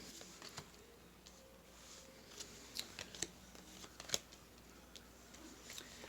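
Tarot cards handled up close at low volume, with light papery slides, taps and flicks scattered irregularly over a quiet background.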